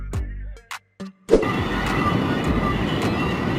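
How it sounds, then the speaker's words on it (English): A freight train of petroleum tank cars rolls by after a few brief clanks and silences, settling into a steady, loud rolling rumble with faint squeals, close and continuous. "A freight train composed of tank cars used to transport petroleum, crude oil, or chemical liquids safely."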